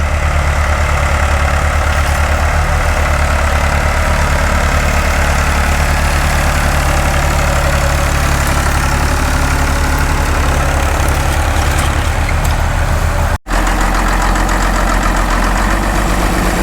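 Vintage tractor engine running at a plow day, a loud, steady low throb with an even, chugging mechanical rhythm held close and continuous, with one brief dropout near the end.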